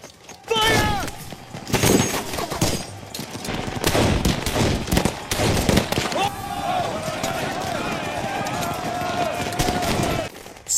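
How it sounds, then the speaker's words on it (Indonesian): Battle gunfire during a siege of UN peacekeepers, dense bursts of shots and sharp cracks in rapid succession, loud and close, with a sustained whining tone in the later part. "tembakan pertama dibunyikan, pertanda telah dimulainya pertempuran terakhir ini"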